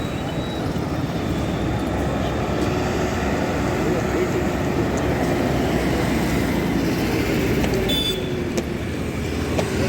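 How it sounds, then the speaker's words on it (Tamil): A train rolls across a bridge over the Ganges at Triveni Sangam, producing a steady, continuous rumble throughout that stays loud and even, with a faint high whine and occasional clanks near the end. "ட்ரெயின் மேலே பாலத்தில் போகுது"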